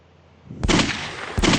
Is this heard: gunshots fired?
yes